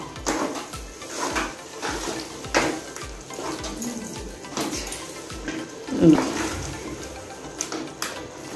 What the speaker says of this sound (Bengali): চিনি দিয়ে এখন একটু নাড়াচাড়া করে